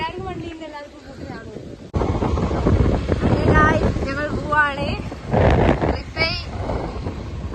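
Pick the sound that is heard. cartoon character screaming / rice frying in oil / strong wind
strong wind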